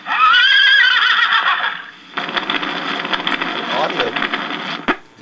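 A See 'n Say pull-string toy plays a recorded horse neigh, a loud, tinny whinny for about two seconds, followed by a busier stretch of clip-clop hoofbeats and farmyard sound from the toy's small speaker.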